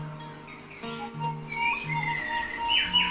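An orange-headed thrush sings a run of bright, whistled chirps and trills close by over a low steady hum, with no voices.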